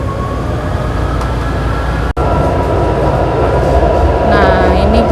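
The rear carriage of a moving train rumbles loudly and steadily from inside, with rolling track noise and clatter throughout, while people talk over it.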